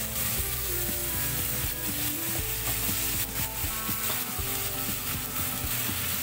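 Water poured into a hot pan coated with chicken tikka spices, bursting into loud continuous sizzling with scraping and stirring of the pan throughout.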